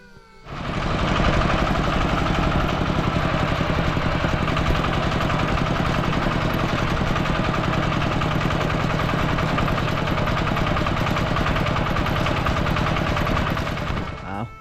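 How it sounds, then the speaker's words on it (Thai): Two farm tractors running near a rural water-collection spot in Thailand, their diesel engines giving a loud, steady, rattling chug that holds at a constant level for the whole stretch with no talking over it. "ก็มีรถไถ2 คันเลย"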